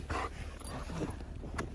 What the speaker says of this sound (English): Stopped to let the dogs play for a minute.